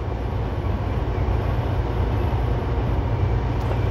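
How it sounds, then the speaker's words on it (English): A steady, loud rumble of a passing coal train fills the clip, a constant broadband roar with low-frequency weight and no breaks. "Coal train."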